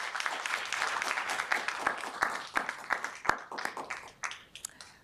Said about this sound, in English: I'd like to get a round of applause for our board